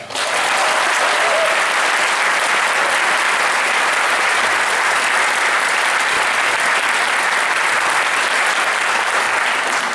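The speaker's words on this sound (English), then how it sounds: "Please give a huge applause to my good friend" An audience at a Utah public lands hearing claps for Pete Metcalf, loud and dense continuous applause filling the whole stretch with a crowd murmur underneath.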